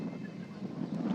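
Strong wind buffets the microphone at an outdoor evening soccer match in Brooklyn, a steady low rumbling roar with no other distinct sounds.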